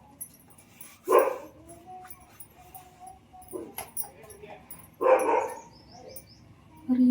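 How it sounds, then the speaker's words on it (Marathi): A pet dog barking at a stranger outside: a few loud, sharp barks spaced several seconds apart, with quieter whines and household sounds in between. "तर रिओ कोण बाहेर आलं नवीन माणूस की भुंकायला चालूच करतो"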